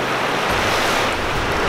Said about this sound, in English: Wahan se aa rahi hai puri ki puri waterfall.